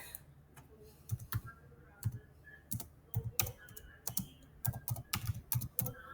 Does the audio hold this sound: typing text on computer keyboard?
yes